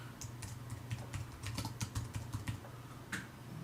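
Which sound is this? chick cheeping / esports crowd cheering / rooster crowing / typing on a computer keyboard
typing on a computer keyboard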